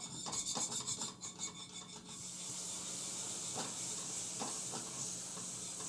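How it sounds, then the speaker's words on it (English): A whisk scraping against a pot as liquid latte is beaten into flour over medium heat for a vegan roux, a raspy rhythmic scratching, then a steady soft hiss of cooking underneath. "we're going to whisk it in. Make sure it's on medium heat."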